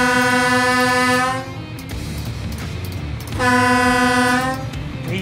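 Two long, loud blasts of a train horn sound as a warning ahead of a level crossing, each a steady multi-tone chord lasting over a second, separated by a short gap filled with rumbling cab and rail noise.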